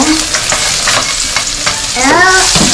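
Sliced onion and garlic sauté loudly in a hot pan. A steady close sizzle is broken by scraping stirs.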